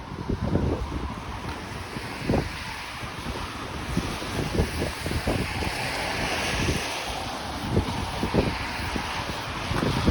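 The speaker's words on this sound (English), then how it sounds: "And now the snow's blowing my direction again." Wind gusts blow snow along O'Connor Drive in East York, Toronto, a steady rushing roar with heavy buffeting against the microphone and scattered low thumps, with no talking throughout.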